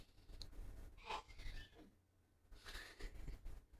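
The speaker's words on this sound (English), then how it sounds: "I just heard my executive producer sneeze really loudly out there." A loud sneeze from someone in a room outside a studio, carrying through the soundproofing as a sharp gasping burst with breathy follow-up, fairly distant and muffled.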